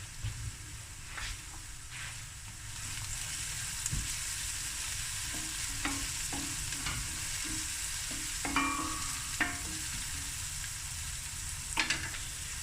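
Onions fry in a pan for beef mince ahkni, a quiet, steady sizzle broken by soft, irregular stirring clicks and scrapes against the pan, heard close and without talk.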